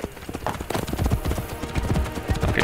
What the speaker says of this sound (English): That's why I don't use horses,